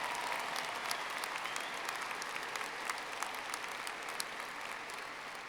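Sustained applause from a large commencement audience in a university ceremony hall, steady and dense with faint crowd murmur, distant and even throughout.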